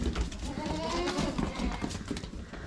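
Loose goats bleat in short wavering cries close by, set against rustling and shuffling movement.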